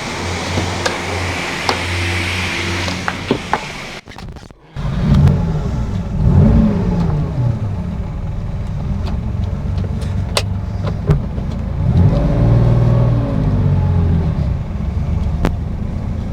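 A 1975 Porsche 911 2.7 idles, then pulls away, its mid-pitched flat-six engine revving and accelerating up close, loud and steady with no talk.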